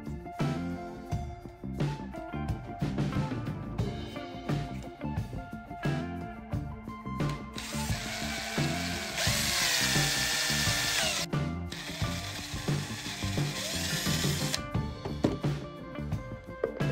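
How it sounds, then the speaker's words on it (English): A power drill whirs in sustained bursts boring two holes into a handle, its motor pitch rising under load, with clanks and handling noises of tools between runs. "Then we drill two holes right into the handle."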